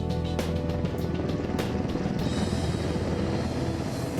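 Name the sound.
helicopter rotor noise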